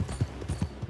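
Horse hooves clip-clopping at an even walking rhythm in the video game Red Dead Redemption, soft muffled thuds in a quick regular pattern.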